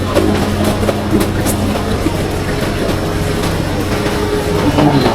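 Turna Express passenger train pulling into Chittagong railway station, a steady loud low rumble with rolling wheel and carriage noise and faint clanks throughout, no voices.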